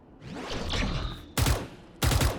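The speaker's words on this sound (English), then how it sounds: "Flashbang." Flashbang grenade going off in Valorant on the Ascent map: a soft rising whoosh followed by two sharp, loud bursts about half a second apart.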